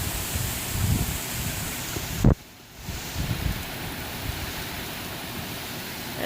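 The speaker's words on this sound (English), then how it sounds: "pouring rain" Pouring rain outdoors with thunder and lightning about, a loud broadband wash of falling water and wind buffeting close to the microphone, briefly cut off before resuming steadily.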